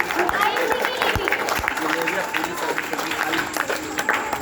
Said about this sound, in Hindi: चलिए आयुष जी के पेरेंट्स के लिए एक बार जोरदार ताली बजाइएगा।